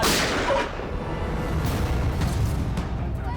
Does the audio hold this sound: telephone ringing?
no